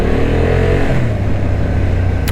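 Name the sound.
Honda Hornet 750 motorcycle engine accelerating uphill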